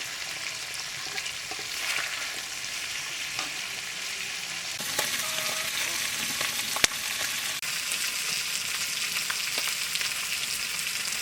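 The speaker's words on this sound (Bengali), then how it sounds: "এখন মাছটা আমরা উলিয়ে দিয়ে দিতে আছি" River fish sizzles steadily in hot oil in a pan, a dense close frying hiss, with a few soft scrapes and clicks as the pieces are turned over.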